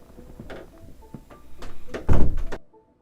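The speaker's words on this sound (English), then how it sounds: "Sorry, someone opened my door to bring me food." A room door being opened indoors, heard as a series of close thumps and rattles that builds to a louder clunk before falling quiet.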